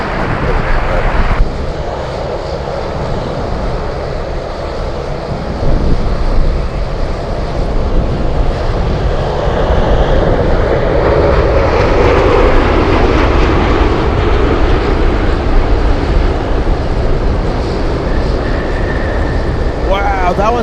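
A heavy cargo airplane touches down on a runway at Anchorage, its engines roaring loud and broad for a sustained stretch, rising into a whine of reverse thrust as it slows, with someone talking.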